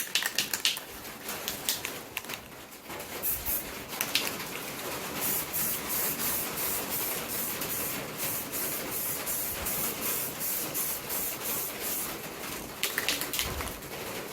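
A wet coat is sprayed onto 36-year-old plastic Camaro taillights, a steady close hiss of spray in repeated bursts across the whole stretch.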